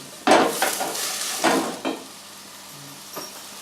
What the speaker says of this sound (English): So that's your vegetables cooking.